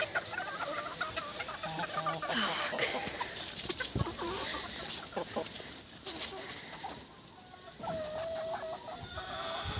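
A young rooster clucks and crows nearby in short bursts, with someone speaking briefly in between and rustling around the yard.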